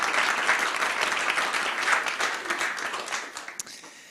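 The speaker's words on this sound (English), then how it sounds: "So could we give them a round of applause?" An audience applauds speakers at a session on a government ban on conversion therapy, a dense, steady wash of many hands clapping that holds strong for about three seconds, then thins out and fades with a few last claps.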